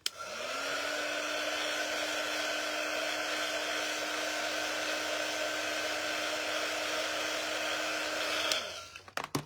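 A handheld heat tool runs steadily for about nine seconds to dry a chalk transfer in a crafting session, giving a loud continuous hair-dryer-like whir and hum that starts abruptly and cuts off near the end.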